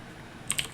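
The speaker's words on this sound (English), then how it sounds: "I got this new keyboard, and it's clicky switches because I ordered the wrong ones" Several quick clicky-switch computer keyboard keystrokes, sharp and close, arriving in a short burst after a moment of quiet.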